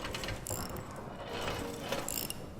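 A wrench ratchets in the video game Amnesia: The Bunker, giving quick metallic clicking bursts in a few short runs, fairly close and clear with no talking over them.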